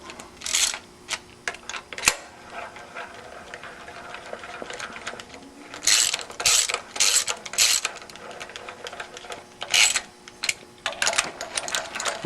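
Ratchet clicking in short bursts while snugging cylinder head bolts through torque plates on an engine block, close and fairly loud, with quiet workshop pauses between runs of rapid clicks.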